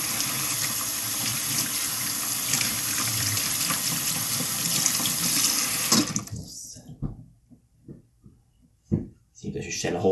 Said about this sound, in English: Wash my hands while cooking is amazing.